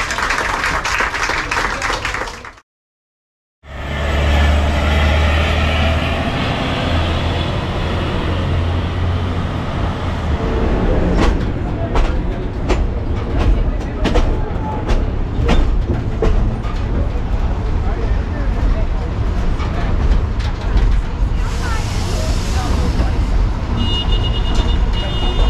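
Historic passenger train running on a 100-year-old Brazilian railway, heard from inside an imperial carriage as a steady rolling rumble with rhythmic wheel clacks. A brief silent gap occurs early on, and faint voices surface now and then.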